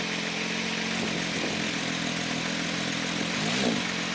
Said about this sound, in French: nous allons entendre le magnifique bruit du flat 6